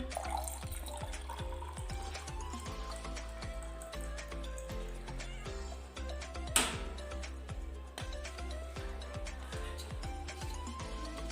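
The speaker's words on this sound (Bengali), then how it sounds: "এখানে ফিল্টারে জল নিয়ে নিচ্ছি" Drinking water runs from a household water filter in a home kitchen in a soft, continuous, fairly faint pour, with a brief clatter midway and no voices.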